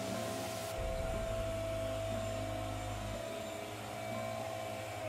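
A Kobalt router mounted in a router table with a custom laser-cut base plate runs alongside dust suction, producing a constant loud vacuum-like roar and whine with a lower motor hum that shifts partway through.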